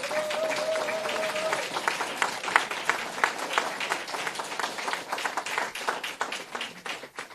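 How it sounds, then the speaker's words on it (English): A conference audience at a post-hurricane reconstruction forum claps together, a crowd of hands producing a lively, uneven patter that carries on steadily for several seconds with a brief tonal hum near the start. "Let's just give you a round of applause"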